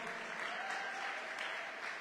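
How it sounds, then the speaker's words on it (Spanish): A church congregation applauds in a dense, steady wash of clapping that holds evenly throughout, fairly distant and moderately quiet. "Dar un aplauso al Señor."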